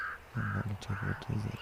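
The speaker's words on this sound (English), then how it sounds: "Oh, there's some ravens there." Ravens cawing outdoors in nature, a series of harsh repeated calls in quick rhythm, fairly close, with a person speaking briefly over them.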